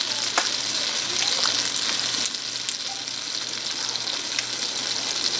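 A stick of butter melts in a pan with a steady, close hiss and sizzle, broken by a few small pops and crackles, with no voices over it.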